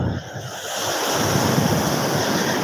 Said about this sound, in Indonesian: Emang ini ombaknya lagi bagus.